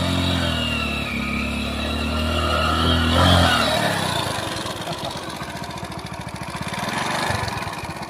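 A motorcycle engine running after the bike has been washed, a steady close rumble that grows briefly louder and then settles into a rough, even idle.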